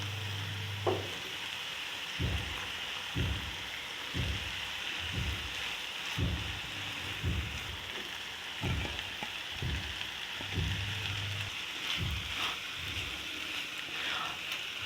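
Boiled, shredded chicken frying in a pan for paratha filling, a steady sizzle with repeated scraping stirs at a regular pace, close and moderately loud, no talking.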